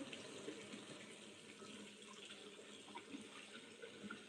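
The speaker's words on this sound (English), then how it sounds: "I put fresh water while it drains because I want the freshness to continue." A tap pours fresh water into a draining bathtub, an even, close splashing flow that continues unbroken and alone.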